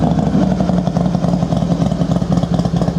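A Harley-Davidson CVO Softail Deuce FXSTDSE2 motorcycle engine idles steadily nearby, a deep, continuous rumble with a fast lumpy pulse and light mechanical clatter, heard alone without talk.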